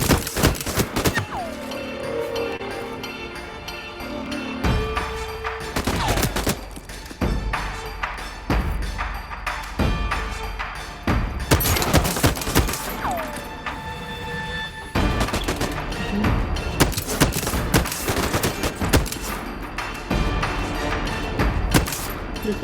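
Gunfire in the survival game Voidtrain: loud shots and rapid bursts crack in irregular clusters across a dense, rumbling combat soundscape, with heavy thuds mixed in.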